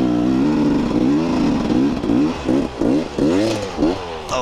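A supermoto motorcycle on racing slicks ridden off-road, the engine revving and dropping in repeated rising bursts, loud and close, with scrapes and clatter near the end.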